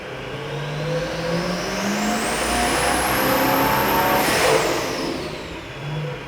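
A compound-turbo Duramax diesel engine revs hard on a dyno, a loud, sustained roar that climbs steadily in pitch with a rising turbo whine, then drops off sharply near the end and settles back down.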